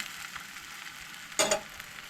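A rava-onion bhakri roasts in oil on a hot pan in a Goan village kitchen, a steady low sizzle that swells into a brief louder burst of frying near the end.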